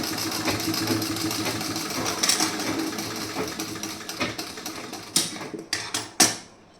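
A sewing machine stitches a piece of a blouse, running as a steady mechanical whir that rattles along for several seconds, then stops and ends in a few sharp clacks and knocks close by.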